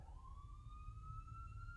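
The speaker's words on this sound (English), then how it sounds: "Oh, there's the siren." A single rising siren wail, steady and fairly faint over low rumbling background noise, with no talking.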